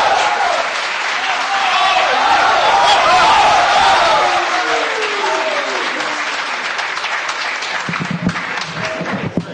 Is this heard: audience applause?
yes